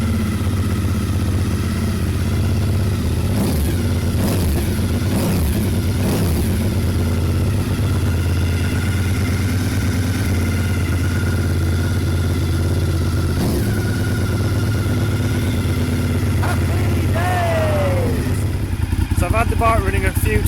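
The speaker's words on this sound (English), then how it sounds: "I've had the bike running a few times inside just to get a little bit of temperature into it" A restored Honda SP1 motorcycle engine running indoors, a steady loud idle with a low throbbing hum throughout and a brief rise in pitch near the end.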